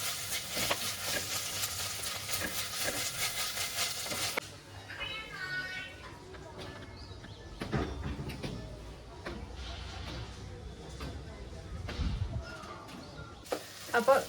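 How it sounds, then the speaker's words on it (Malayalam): Ginger garlic paste sautés in a pan, a dense, steady sizzle for the first few seconds, then quieter scraping and stirring with softer frying underneath and a brief burst of sizzle near the end. "അപ്പോൾ ജിഞ്ചർ ഗാർലിക് പേസ്റ്റ് ഒക്കെ നന്നായിട്ട് വഴണ്ടി വന്നിട്ടുണ്ട്."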